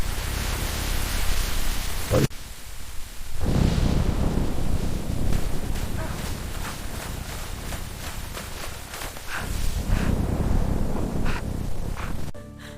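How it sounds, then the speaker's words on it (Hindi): A storm with strong wind and heavy rain, heard as a dense, steady roar that cuts out briefly and then resumes at full strength. No separate thunderclap stands out. "अचानक काले बादल छा गए, तेज हवा चलने लगी, पेड़ जोर जोर से हिलने लगे और पर फिर गरज के साथ तेज बारिश शुरू हो गई"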